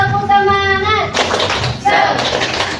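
A classroom of students claps hands in a chant led by a teacher during a microteaching practice lesson. Voices speak first, then bursts of sharp clapping follow, close and fairly loud, with more talk between them.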